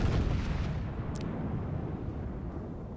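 Battleship artillery shells from a New Mexico battleship land in the World of Warships naval combat game, a low booming rumble of distant heavy guns fading over three seconds, with no speech.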